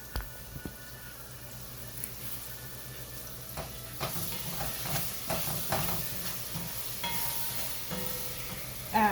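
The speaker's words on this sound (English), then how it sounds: "So it's just cooking and stir frying." Rice with sausage stir-fried in a pan, with steady sizzling and hiss broken by repeated scraping stirs of a utensil, close and moderately loud, with no voices.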